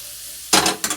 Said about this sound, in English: this is my frying up right now, as you see. I got the zucchini and I got the